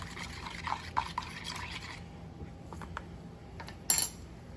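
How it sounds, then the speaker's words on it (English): A utensil stirring French toast custard in a bowl, quiet scattered clinks and light liquid sloshing up close, ending with a brief louder scrape against the bowl, with no talking. "I'm just going to give this another stir."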